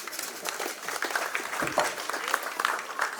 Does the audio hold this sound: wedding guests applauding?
yes